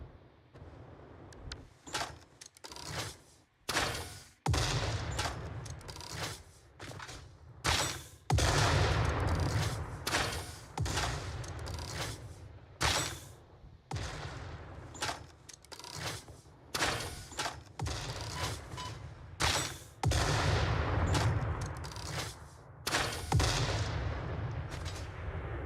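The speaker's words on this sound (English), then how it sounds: "Love just the echoing explosion noises across the landscape." Repeated booming explosions echo across an open landscape in the video game Satisfactory, loud and irregular with sharp hits and rolling tails over many seconds.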